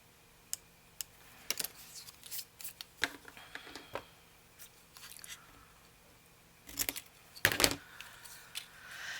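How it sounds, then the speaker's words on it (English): Scissors snipping through polka dot paper for a gift tag booklet, a scattered series of short crisp cuts and paper rustles, close and fairly quiet, with a louder burst of cutting near the end and no talking. "I think I will go ahead and cut this"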